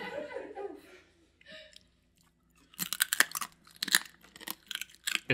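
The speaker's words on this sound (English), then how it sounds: "It's so crunchy." Crunchy food, a guacamole-topped snack, is chewed close to the mic in bursts of crisp crackling bites after a quiet stretch, preceded by a brief murmur of talk and a soft gasp or chuckle.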